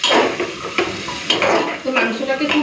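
Mutton being stirred and fried in a pot; loud, close clanks and scrapes of a spoon against the metal pot in repeated strokes over a faint sizzle, no talking.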